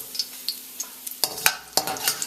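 A slotted spoon lifts crisp fried smoked bacon out of a hot pan, with a light sizzle under a quick series of metallic scrapes and clinks that grow louder and sharper toward the end.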